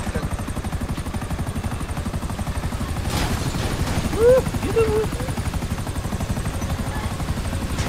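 Aircraft in GTA V Online, a loud, rapid, pulsing helicopter-like rotor chop running throughout, with someone talking briefly over it.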